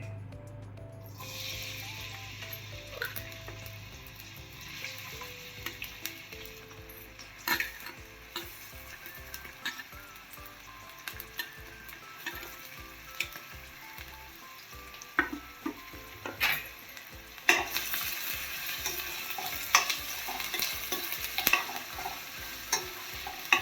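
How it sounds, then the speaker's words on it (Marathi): Half an onion frying in hot oil in a heated pot for mutton Lucknowi, a continuous loud sizzle with intermittent scraping and tapping from stirring throughout. "यातला अर्धा कांदा तळायचा आहे"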